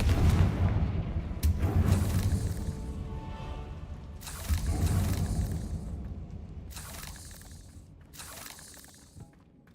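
A Confringo spell cast in a Hogwarts video game sets off a series of blasts, three or four heavy booms with crackling, shattering tails spaced a couple of seconds apart, fairly close and fading out.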